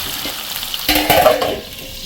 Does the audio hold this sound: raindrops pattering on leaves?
no